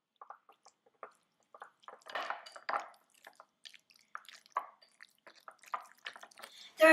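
Cornstarch is stirred into a sticky rice jambalaya mixture, with soft, wet squelches and little clicks of a spoon in thick rice, sparse and quiet, coming in short irregular bursts close up.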